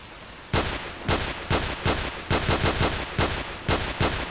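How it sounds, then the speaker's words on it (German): Gunfire in the video game S.T.A.L.K.E.R. Shadow of Chernobyl during a house-to-house fight, made up of about a dozen loud, sharp shots in an uneven rhythm, some in quick pairs, over steady background noise. "Aber ich höre noch Schüsse."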